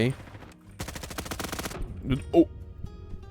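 Rapid bursts of automatic gunfire in a realistic Roblox shooter game, a dense rattling volley lasting about a second, followed by a couple of sharper single shots, with faint game sounds around.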